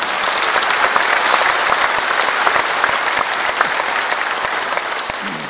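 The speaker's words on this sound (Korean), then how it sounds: "시민 여러분, 여러분 모두를 위해서 다시 한번 축하의 박수 부탁드리겠습니다" Citizens at the Icheon mayoral inauguration ceremony for Mayor Kim Kyung-hee give loud congratulatory applause, a thick, sustained roar of many hands in a large gathering that fades slightly near the end.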